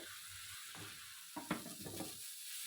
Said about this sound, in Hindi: 2 मिनट पकाएंगे ताकि वेजिटेबल सॉफ्ट हो जाए।